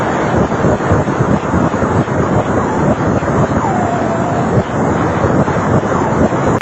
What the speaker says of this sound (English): here is a sound of an actual black hole,